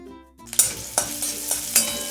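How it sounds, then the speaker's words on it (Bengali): Garlic, crushed ginger and green chillies hit hot oil in a kadai: a quiet start jumps into a close sizzle, with four or five sharp stirring scrapes and clinks at a steady pace and no voices. "এরপর ওই কড়াইয়ে সামান্য আরেকটু তেল দিলাম, অল্প একটু রসুন কুচি, একটু থেতো করা আদা দিচ্ছি আর কয়েকটা কাঁচা লঙ্কা কুচি"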